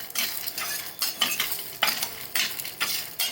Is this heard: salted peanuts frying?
yes